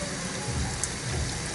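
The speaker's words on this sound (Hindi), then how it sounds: "मुझे थिक ग्रेवी चाहिए इसलिए मैं थोड़ा सा पानी डालूंगी।" Water is poured steadily into chicken curry gravy in a pan, a continuous close splashing rush with no break and no voices.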